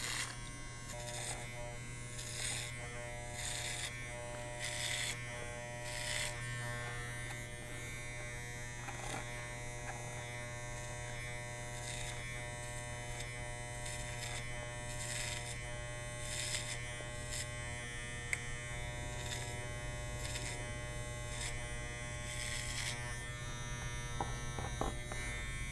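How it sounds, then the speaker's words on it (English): An electric hair clipper buzzes steadily close by as it cuts hair over a comb, its hum continuous, with faint rhythmic changes in tone as strokes pass through the hair. "So this is the clipper over comb"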